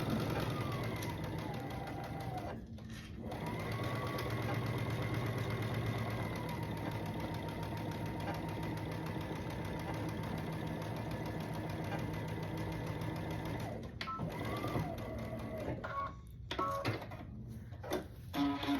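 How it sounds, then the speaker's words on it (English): A sewing machine stitches a quarter-inch seam on a quilt block, running as a long steady mechanical whir with a brief pause near the start, then stopping and starting in short bursts toward the end. "I'm gonna sew a 1/4 inch down that seam, taking my pins out as I go"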